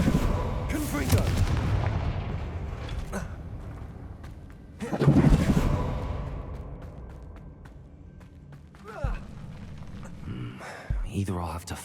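Confringo fire spell blasts in Hogwarts Legacy, a couple of booming explosive bursts with crackling decay, spaced several seconds apart over quieter game ambience.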